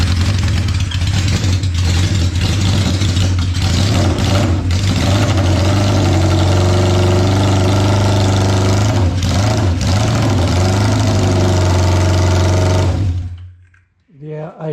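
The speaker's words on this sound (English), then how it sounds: "That's no choke, just cranking it cold. At least it starts" A 1972 Honda CB500 Four motorcycle engine runs cold with no choke, holding a loud, steady, uneven idle for about thirteen seconds before cutting out abruptly into silence.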